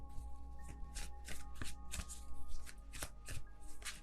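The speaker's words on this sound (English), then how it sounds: "I'm just gonna wait until it feels right and then take out all of the cards at once." Tarot cards are shuffled by hand in a quiet room, giving a steady run of soft, rapid riffling and slapping flicks that repeat at close range with no talking.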